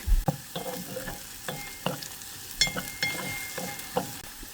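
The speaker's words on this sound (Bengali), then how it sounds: "এটা কিন্তু হালকা করে ভাজা দিয়ে নিচ্ছি" Onions frying lightly in a pan give a steady soft sizzle, broken by a series of sharp stirring scrapes and clinks at irregular intervals. The sound is close up, with no talking.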